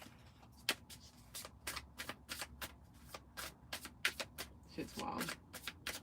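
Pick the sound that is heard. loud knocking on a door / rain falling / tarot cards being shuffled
tarot cards being shuffled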